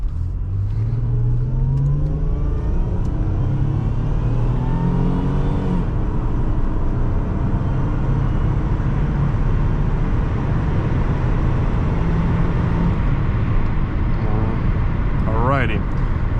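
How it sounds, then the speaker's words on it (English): A 2001 Buick Park Avenue Ultra accelerates hard from a standstill in a 0 to 60 run, the engine note climbing steadily and shifting through gears, loud and close from inside the cabin with a voice over it at the start. "let's go do a 0 to 60 test up next."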